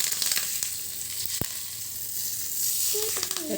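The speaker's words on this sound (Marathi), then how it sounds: "मस्त फोडणी होते इथे." Cumin and mustard seeds sizzling in hot oil for a traditional Latur-style tempering, a close continuous crackle with a sharp pop and brief sputtering near the end.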